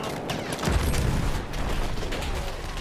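Enemy machine gun fire in a Battlefield 1 match on the Suez map, a loud dense stream of battlefield gunfire and booms filling the whole clip with no pauses.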